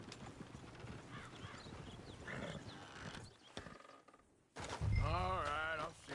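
A horse in the Red Dead Redemption 2 game clip-clops steadily in the background, then gives a loud, close whinny near the end, with background game sounds and brief voices around it.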